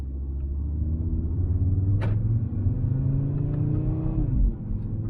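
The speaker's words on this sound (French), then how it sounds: "la première chose qu'on entend, c'est le 5 cylindres qui sonne bien" An Audi RS3's 2.5-litre five-cylinder engine in RS mode pulls hard, with a loud, deep, throaty rumble from inside the car, its pitch rising through the gears and briefly breaking as a gear changes.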